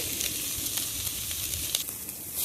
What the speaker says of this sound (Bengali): এখন মাছগুলো এভাবে নাড়িয়ে নাড়িয়ে আমি মুচমুচে করে ভেজে নেব